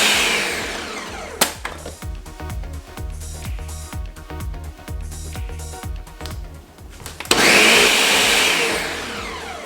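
A blender churning frozen yogurt, its motor grinding in a choppy, labouring rhythm with thumps, then surging into a loud, steady whir near the end.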